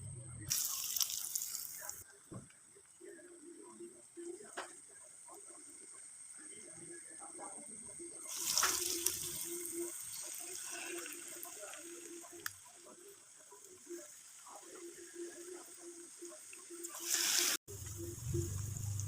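A breaded jackfruit snack is lowered into hot cooking oil and sizzles with a steady hiss, swelling into louder bursts of bubbling near the start, the middle and the end.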